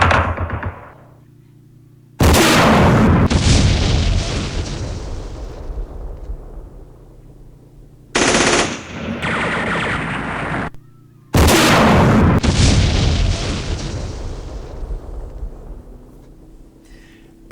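Gunfire and artillery from the Vietnam war game Campaign Series Vietnam at Khe Sanh boom in three loud, heavy blasts, each with a long rumbling decay, plus one shorter crack between them, separated by near silence.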